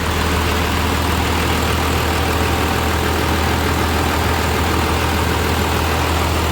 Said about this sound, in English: Want to give it like 30 seconds of idle or so?